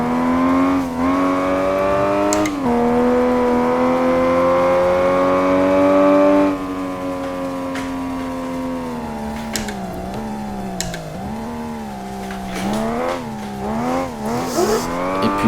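Engine of a drifting car in the Assetto Corsa racing simulator, a sustained loud tone that holds steady, drops, then wavers through shifting revs and tyre squeal near the end, with no talking.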